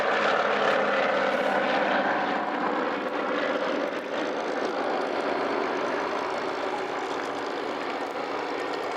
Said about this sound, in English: The Avro Anson do her lovely display